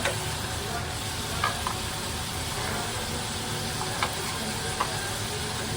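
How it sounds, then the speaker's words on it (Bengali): Vegetables with green chillies and whole garlic cloves sautéed in a pan for a dried ribbonfish dish, giving a steady broad sizzle throughout with a few faint scraping stirs. "এখন আমি সবজিটা ভালোভাবে একটু কষায় নেব"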